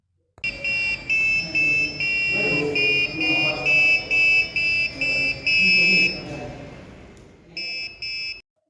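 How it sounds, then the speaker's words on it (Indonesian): An electronic buzzer driven by a programmed microcontroller in a hardware lab beeps out a tune, a series of bright tones of varying pitch and length, with a brief pause before two final notes. "Percobaan berhasil dengan buzzer berbunyi sesuai nada yang telah diprogram."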